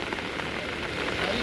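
Heavy monsoon rain pours down during net fishing for boit fish, a dense, continuous hiss of drops on surfaces that stays steady throughout.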